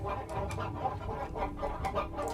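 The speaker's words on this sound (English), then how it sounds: "But I'm taking care of the cluckers." Chickens clucking in the video game Baten Kaitos, a steady run of short fowl clucks and squawks repeating over a continuous backdrop of game sound, close and moderately loud with no talking.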